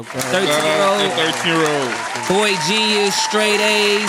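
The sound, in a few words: audience applause for a boy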